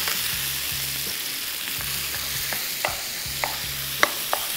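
Kabab frying in a pan, a steady broadband sizzle with sharp spoon taps and scrapes against the metal punctuating it every half second or so, no voices.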